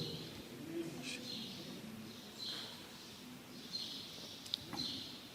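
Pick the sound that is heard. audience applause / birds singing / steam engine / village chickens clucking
birds singing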